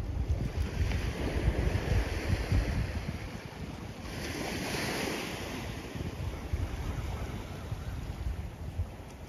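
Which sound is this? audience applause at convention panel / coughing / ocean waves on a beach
ocean waves on a beach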